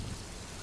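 Summer rain falls in a steady, even wash of hiss that stays level from start to finish, with no voices present.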